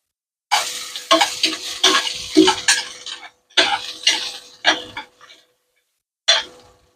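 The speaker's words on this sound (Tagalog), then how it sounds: "Ilagay na natin itong sibuyas." Onions frying in a pan, with bursts of sizzling and spatula stirring that come in short uneven clusters with quiet gaps between them, loud and close.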